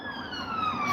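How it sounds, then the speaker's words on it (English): Two police car sirens wail outdoors, a steady descending tone heard briefly over low traffic rumble, moderately near and without talking. "there's two police cars"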